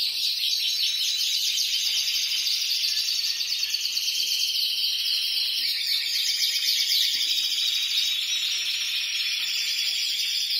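Several birds sing and chirp together continuously outdoors, bright overlapping calls at moderate volume with no talk.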